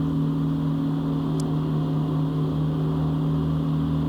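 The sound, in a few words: Gianni Ferrari mower engine holding revs in thick grass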